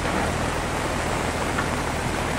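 Heavy monsoon rain falls on the village of Tambose beside a national highway, a dense, even, continuous roar close by with no voices.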